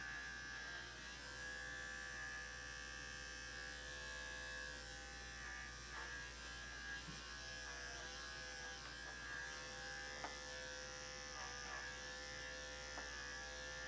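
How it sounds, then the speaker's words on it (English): An Andis 5-speed electric clipper hums steadily while grooming a Shih Tzu Yorkie mix dog, a constant close buzzing drone with small clicks and shifts as the blade moves through the coat, no talking. "So I got my Andis 5-speed."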